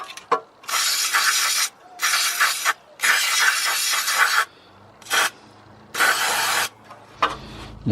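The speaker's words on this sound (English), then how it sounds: "And then I'm going to spray it with this M40 lubricant" M40 lubricant is sprayed from an aerosol can onto a rusted, sticking car brake caliper, giving four or five close, loud hissing bursts of varying length, separated by short pauses and light metallic handling clicks.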